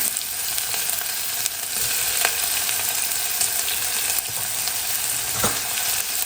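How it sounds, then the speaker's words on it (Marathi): Onion sautéing in hot oil with cumin, a cinnamon piece and bay leaf for rajma, a loud continuous crackling sizzle with scattered pops and stirring scrapes, close up and without voices. "कांदा छान परतून घ्यायचा हलकासा गुलाबी कलर येऊ द्यायचा आहे"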